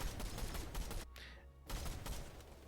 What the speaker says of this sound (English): Big shots again.